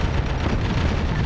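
Artillery frag rounds exploding in a military video game, a loud, dense, continuous booming roar filling the short moment with no talk over it.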